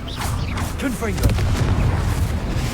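Booming Confringo spell impact in the Hogwarts Legacy game, a heavy low rumble running continuously under chirpy magical whooshes and a voice, loud and near throughout.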